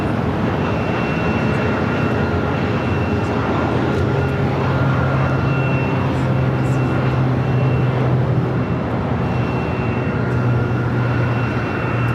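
Heavy jet airliner taking off at LAX, a loud, steady broadband roar with a low engine drone that holds throughout, close and continuous with no talk.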